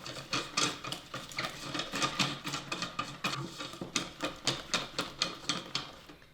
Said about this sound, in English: let's whisk this for about 2 minutes